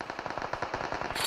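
Rapid automatic gunfire from PUBG Mobile rattles in a fast, even burst of roughly a dozen shots, loud and close, ending in a brighter burst of noise.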